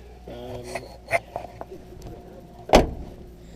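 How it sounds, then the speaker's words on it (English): Window winder on a 1983 GMC S15 pickup truck, a short mechanical whir and creak followed by a sharp knock, close and fairly loud. "there goes the window winder"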